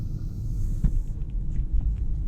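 A 2023 Audi A5 Sportback with a dual-clutch transmission pulls out of a parking lot, heard from inside as a steady low engine rumble and road hum with a few faint knocks.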